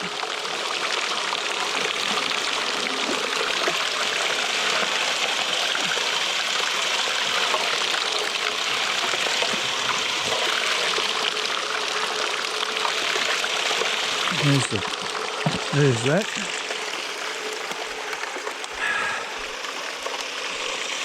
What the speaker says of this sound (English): Okay, I'll turn the water off.